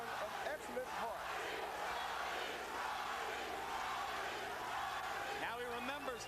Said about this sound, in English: Crowd chanting Gatti, Gatti, Gatti.